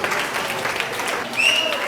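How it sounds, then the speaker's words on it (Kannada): At a pre-school annual day celebration, an audience breaks into sustained, dense applause. Faint voices and a brief high whistle-like tone rise near the end. "ಅರೆ ಜೋರದ ಚಪ್ಪಾಳೆ ಬರ್ಲಿ ರೀ"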